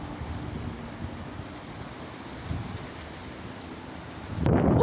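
Windstorm with rain and thunder, a steady roar of wind and rain with low rumbling throughout, swelling into a louder burst of noise near the end.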